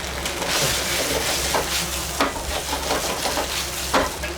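Pork and other food sizzles and is stirred in a Chinese wok in a sumo stable kitchen, with steady loud frying hiss, a low burner rumble and sharp scraping clatters of the utensil against the pan.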